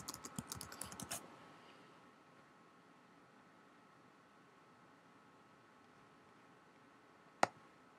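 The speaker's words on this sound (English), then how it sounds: "Type in your password." A password typed on a computer keyboard: a rapid, close burst of light key clicks for about a second, then quiet hiss, and near the end one sharp, louder keystroke, likely the Enter key.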